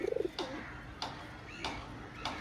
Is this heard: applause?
no